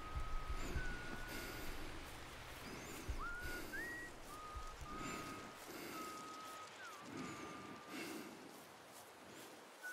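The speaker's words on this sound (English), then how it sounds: "Who's whistling?" A faint, wavering whistled tune drifts through the Get Even video game, with several sustained notes and pitch slides over a muffled, rumbling background.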